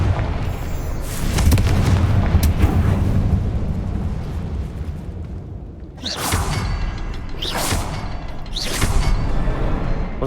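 Confringo fire spell explosions in the Hogwarts Legacy video game: a heavy rumbling boom sustained at the start, then three sharp blasts with whooshing bursts in quick succession, loud and close.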